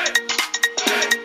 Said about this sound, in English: Awesome ringtones here for you, your friends to enjoy.